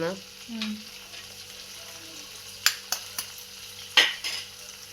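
Egg masala for egg burji fries in a pan with a close crackling sizzle, punctuated by several sharp metallic scrapes and clinks of a spoon against the pan.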